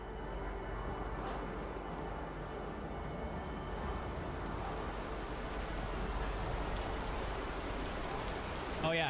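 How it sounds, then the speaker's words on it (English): Rain falling during a storm in the Star Citizen video game, a dense continuous patter over a low rumbling bed, steady throughout. "Oh yeah, I can hear the rain now."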